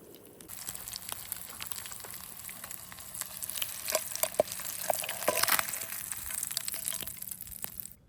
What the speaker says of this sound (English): Cooking the bluegill whole like this, you get way more meat.